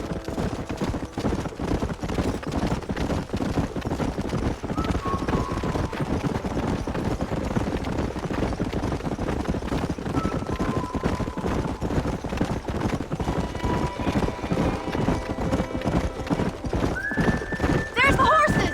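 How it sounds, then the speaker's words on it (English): Horses gallop with rapid continuous hoofbeats and repeated neighs in the video game Red Dead Redemption, with people shouting over the herd throughout. "There's the horses!"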